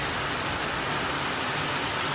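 Heavy monsoon rain pours steadily in a Konkan village, a dense unbroken hiss of water close by with no pauses or voices.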